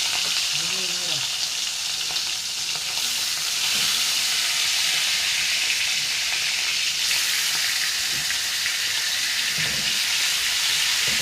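Fish belly pieces fry in hot oil in a pan, a loud, continuous sizzle with steady hiss throughout, a few faint clinks and stirring touches under it.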